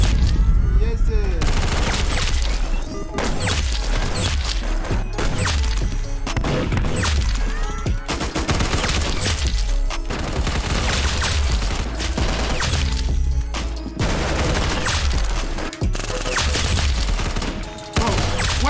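Nonstop gunfire in the Roblox game Arsenal, dense rapid volleys and single loud shots layered over each other for the whole stretch, close and loud, with players talking underneath.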